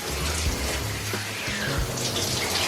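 Water running steadily from a shower or tap as shampoo is rinsed out of hair, a continuous close splashing rush with small gurgling shifts throughout.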